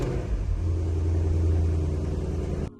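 Porsche Panamera GTS with a V8 engine at cold start, giving a loud, steady, deep exhaust rumble that holds throughout and then cuts off abruptly near the end.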